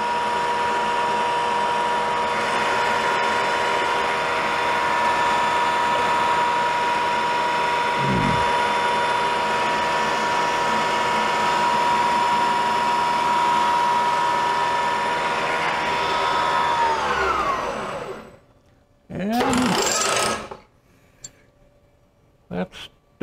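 A CNC router steadily cuts wood parts for a Damascus-style base with a loud, sustained whine that holds for most of the span before winding down, followed by short bursts of spindle noise and a clunk.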